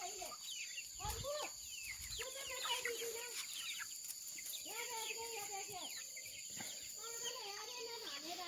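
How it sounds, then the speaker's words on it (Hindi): Chickens let out on a farm in the morning, clucking in repeated short bursts at moderate distance against faint background noise. "ये रही गाइस हमारी मुर्गियाँ, और भी चल रहे हैं।"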